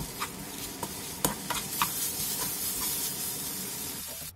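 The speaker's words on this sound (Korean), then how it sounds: "팬에 기름을 두른 뒤 당근과 소금 조금을 넣어 중약불에서 1, 2분 정도 볶아주고" Carrots and fish cake stir-fried in an oiled pan over medium-low heat, a soft steady sizzle with a handful of sharp clicks from a utensil tossing the pieces, close and without speech.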